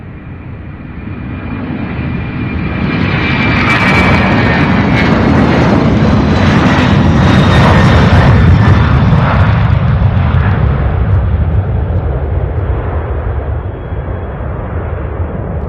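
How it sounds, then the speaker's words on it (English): An Allegiant airliner arriving from Orlando lands on runway 17 left at Louisville International Airport. Its loud, continuous jet-engine roar swells and holds as it passes close by, then eases slightly, with no talk. "Allegiant 2863 out of Orlando coming in for a landing on 17 left"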